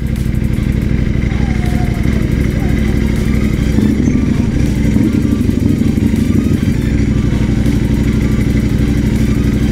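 A Ducati V4 Superleggera motorcycle engine drones loud and steady while being ridden, with rushing wind mixed into a constant roar that holds for the whole stretch.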